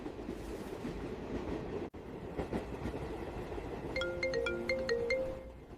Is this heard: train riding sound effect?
yes